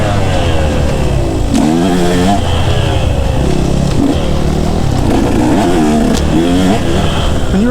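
A KTM 150 enduro motorcycle revs hard on a woodland trail, its two-stroke engine rising and falling in quick surges, loud and close throughout without a break.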